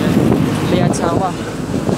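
Wind buffets a microphone beside rice fields along a road, a steady low rumbling roar that continues throughout with a voice briefly mixed in.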